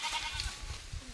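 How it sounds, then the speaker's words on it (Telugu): Goats of a tribal herd near Seethampeta, in the Manyam area, giving short bleats in the open; faint, brief calls over low rustling. "మేకలు అయితే ఇక్కడ ఉన్నాయి. ఇదిగో మేకలు."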